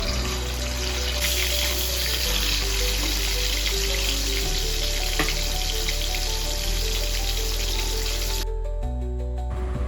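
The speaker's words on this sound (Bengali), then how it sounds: "আমি একেবারে সর্ষের তেলটাকে বেশি করে দিয়ে মাছ ভাজছি" Hilsa fish fry in plenty of mustard oil in a pan, giving a steady, close sizzle and crackle under background music that ends abruptly near the close.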